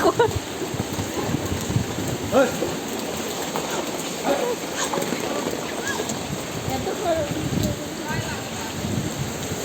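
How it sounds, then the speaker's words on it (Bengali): Heavy storm rain pouring steadily with gusty noise and occasional rumbles, while a voice speaks briefly under the downpour. "বৃষ্টি বেশি শুরু হয়ে গেছে"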